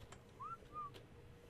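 Two short rising whistle notes, a quick upward swoop then a flatter tone, sound over a low steady game ambience as a follow command to a tamed dinosaur in Ark: Survival Evolved.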